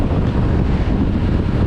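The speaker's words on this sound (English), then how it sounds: "it's windy out today. It's really blustering." Strong crosswind buffeting an open-face motorcycle helmet microphone on a windy day, a loud, dense low roar that stays constant and fills the whole short stretch with no voice over it.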